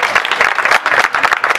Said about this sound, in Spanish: Un aplauso a Gilda que va a buscarlo.